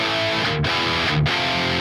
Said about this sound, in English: adding in some what are called stabs